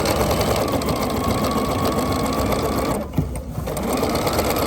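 A sewing machine stitches pieced quilt block units in a loud, close, rapid mechanical chatter that runs continuously, pausing briefly for a moment before resuming at the same steady pace.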